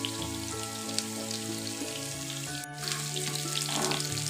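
Onions for sarson ka saag frying in a pan, a continuous close crackling sizzle with a faint background hum, growing slightly fuller toward the end, no voices.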